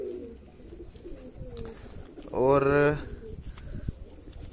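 A pigeon crossed from a Madrasi male and a desi female gives one short, throaty coo, close and loud above quieter ambient sound, with someone talking around it.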